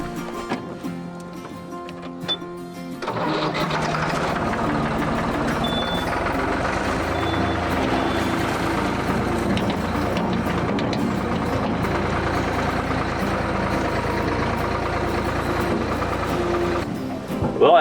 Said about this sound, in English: Gives me another excuse to play with the skid steer